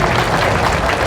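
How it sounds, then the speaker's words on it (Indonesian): Audience applause at a family gathering in Kerembangan, a dense steady wash of clapping filling the short moment at close range, with no talking over it. "Tepuk tangan kita."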